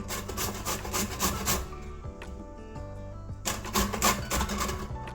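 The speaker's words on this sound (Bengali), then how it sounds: "দেখুন কি সুন্দর হচ্ছে ঘষে নিচ্ছি যে" Raw papaya grated on the coarse side of a kitchen grater: rapid, close rasping strokes that pause briefly midway and then resume, with faint music underneath.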